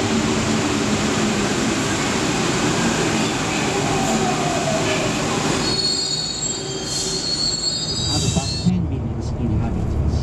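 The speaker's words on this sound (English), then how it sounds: "And I think that's my train." A Paris-area metro train rumbles past with screeching wheel squeals, loud and close, fading as high-pitched squeals and clatter continue near the end.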